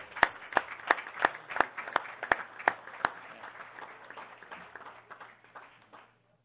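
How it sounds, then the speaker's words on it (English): Applause at a city council meeting, a handful of loud, sharp claps near the microphone over a thinner patter of clapping around the room, fading out after about five seconds. "Let's give him a round of applause."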